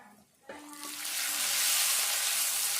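Whole spices for tempering a pepper rasam spit and sizzle in hot oil in a pan, starting with a few crackles and then rising into a steady, loud frying hiss that fills the rest of the moment.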